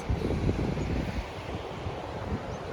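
Ocean waves break along the coastal walk between Maroubra and Malabar beaches, a continuous broad wash of surf mixed with wind buffeting, fairly close and steady with no talk.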